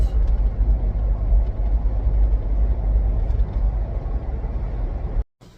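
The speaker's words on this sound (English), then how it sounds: "That's the cabin noise at 55." Steady, loud low-pitched road rumble and engine drone fill a 2025 Ford Bronco Base interior at 55 mph, then cut off abruptly near the end.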